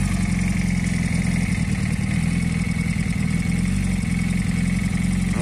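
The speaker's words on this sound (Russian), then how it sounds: "Вот так вот работает движок, вообще тихо." A Kawasaki ZZR motorcycle engine idles on a first seasonal start-up, a steady, close, low rhythmic putter holding an even pitch throughout with no voices.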